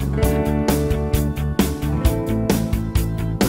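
Ketron arranger keyboard playing a power rock version of a song, a loud live backing groove with hard-hitting drums, driving bass and sustained chords and accents landing on a steady beat.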